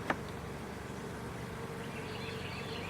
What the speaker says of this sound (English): And these bees are gentle